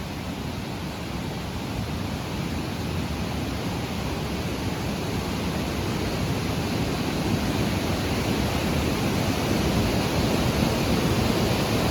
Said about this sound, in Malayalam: ഇവിടെയൊക്കെ കണ്ടില്ലേ, നല്ല നിരന്നൊഴുകുന്നൊരു വെള്ളച്ചാട്ടം